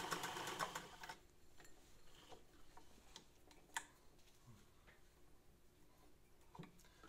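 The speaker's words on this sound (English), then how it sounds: "This machine has a new cord, a new foot pedal, so let's demonstrate how she sews here." A restored 1927 treadle-style electric sewing machine with a new cord and foot pedal runs quietly, starting with a louder burst of rapid stitching that settles into a soft, steady mechanical ticking and clatter, close and alone.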